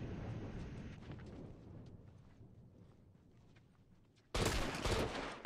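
Rapid gunfire in a multiplayer match of The Last of Us, a long stretch of dense, crackling shots mid-level, ending in a sudden loud, close burst.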